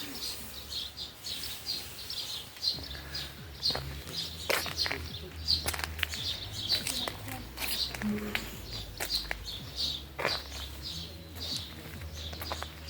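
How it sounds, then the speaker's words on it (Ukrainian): Birds chirp and sing repeatedly in high, bright bursts throughout, with soft background rustling and occasional low noises; no voices. "Пташки співають."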